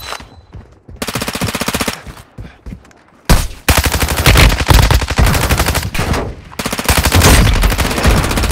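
Loud, close machine gun fire from the video game Warzone Mobile comes in long sustained bursts of rapid shots, broken by brief gaps of near silence.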